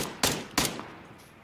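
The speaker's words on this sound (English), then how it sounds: "I just heard a gunshot over there" Two sharp gunshots in the video game PUBG crack out a third of a second apart, each with a short echoing tail, fairly close and with no talk over them.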